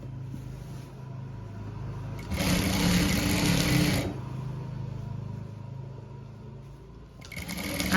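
A sewing machine stitches a frock with a steady, close mechanical whir that swells louder for a stretch in the middle, then drops back to a softer running hum before picking up again at the end.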